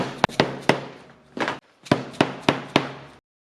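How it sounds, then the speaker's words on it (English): Sharp, distinct impacts from punching holes and setting rivets in a custom leather vest, falling in two close groups of three or four strikes with a short pause between, each knock loud and near, with no voices. "Punch holes, set rivets, rinse, repeat."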